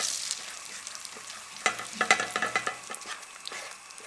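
Butter sizzles and crackles as it browns in a pan with a cinnamon stick and vanilla bean, a steady close hiss broken by clusters of sharp pops and occasional stirring.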